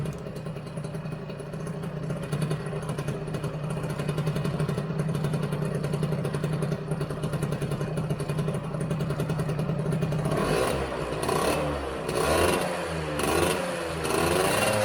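A Yamaha TZR 80 Deltabox motorcycle engine idles steadily with a low, rhythmic rumble, then revs up briefly near the end, close and fairly loud.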